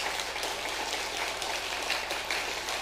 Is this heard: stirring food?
no